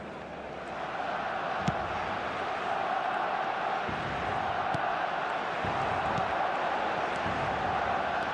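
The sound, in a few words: stadium crowd in eFootball video game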